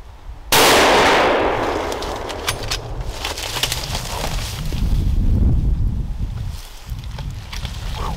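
A single loud, close gunshot fired at a moose during an outdoor hunt bursts out sharply and then decays into a long rumbling tail with wind noise.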